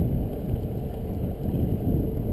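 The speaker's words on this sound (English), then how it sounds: "wind from the north, it's in my face" Heavy wind buffeting a microphone while riding an Espin Aero e-bike into a north headwind: a loud, continuous low rumble and roar with no talk.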